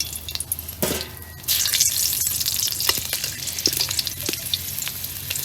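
Oil sizzles and spits in a hot pan (kadai), a steady frying crackle that swells loudly after a brief quieter start, with scattered pops and stirring scrapes close by.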